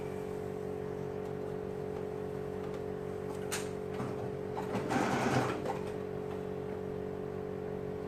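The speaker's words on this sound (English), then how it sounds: "I'm going to zigzag on the top now to finish this armhole." A sewing machine runs a steady background hum with light ticking while zigzag stitching the folded armhole edge of a boy's tank top, a brief louder rustling burst near the end.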